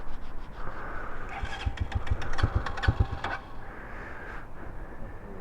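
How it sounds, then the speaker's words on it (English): A Pro Hawk 250 motorcycle, a little finicky to start, cranks with a rapid series of mechanical clatters and catches into a rough low engine burble, heard up close outdoors. "She's always a little finicky to start."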